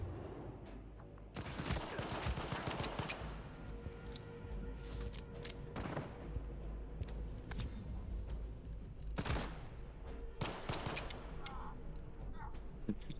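Gunfire in the video game STALKER 2 comes as sharp shots and rapid bursts of automatic fire, loud and close, repeating over a steady background.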